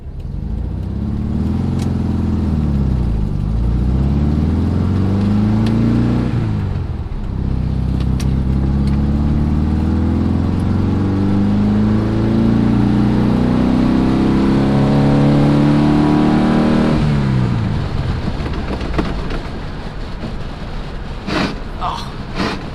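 A 1956 VW Beetle's old air-cooled engine runs loud and steady while warming up, its tone rising and falling as it is revved across the whole stretch, with a few clicks near the end.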